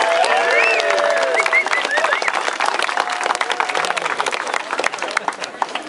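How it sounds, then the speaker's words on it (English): A crowd applauds at a homebrew beer rally at Stone Brewing, with dense, sustained clapping that thins out toward the end while voices carry over it. "Let's hear a round of applause for everybody."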